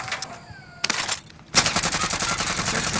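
A video game sentry gun turret opens fire: after a few scattered shots and short gaps, a loud, rapid stream of automatic gunfire runs without pause to the end.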